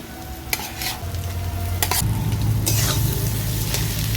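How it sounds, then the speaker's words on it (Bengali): Fried onions are stirred together with boiled green banana, potato and egg in a pan. A steady sizzle runs throughout under a few sharp scraping strokes of a spoon, close and fairly loud with no talking. "সব কিছু মিশিয়ে নেবো"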